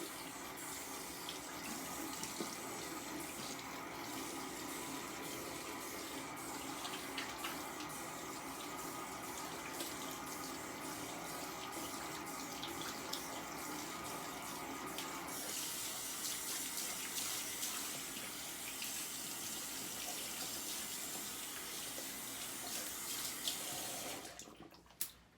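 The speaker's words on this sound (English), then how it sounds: "Look at my hands, so I'm gonna wash my hands." Hands washed under a running faucet: a steady, close rush of tap water flows without a break for about 24 seconds with no talking, then cuts off with a short click at the end.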